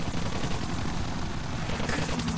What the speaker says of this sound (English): Dingus, get that chopper.